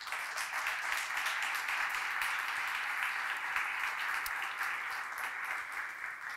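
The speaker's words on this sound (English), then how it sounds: "let's give them a round of applause." A conference crowd gives a sustained round of applause, even and fairly distant, continuing without a break for over six seconds.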